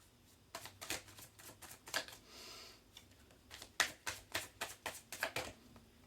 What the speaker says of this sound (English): and we're going to roll some dice